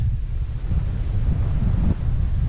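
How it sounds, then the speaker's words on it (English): Strong gusty wind roars across the microphone on a hiking trail in November, a steady loud low rush with no voices. "Wind's picking up."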